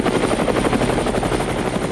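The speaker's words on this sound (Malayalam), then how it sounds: "അല്ല, ഹെലികോപ്റ്റർ" A helicopter flies overhead with a steady, loud rotor thrum and whine that fills the whole stretch with no talk.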